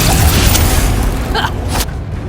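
Bombarda spell explosion in the Hogwarts Legacy video game, a loud deep booming blast that rumbles and fades over about two seconds, with a brief voice sound near the end.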